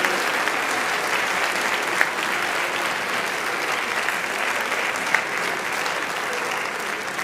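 Sustained audience applause at a National Honor Society chapter induction ceremony, an even, dense crowd of clapping lasting over seven seconds with a few sharper claps standing out.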